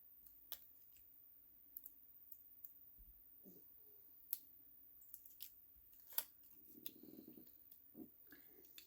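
Scissors snipping through thin craft material, a string of sharp, isolated clicks and cuts spread over several seconds, close and fairly quiet with no talking.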